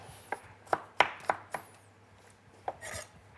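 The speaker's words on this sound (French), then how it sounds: "Pour son bouillon, Sven Chartier découpe des carottes, des cébettes et des navets." A knife chops carrots, spring onions and turnips sharply on a cutting board, a quick run of five or six close thuds, a pause, then two more.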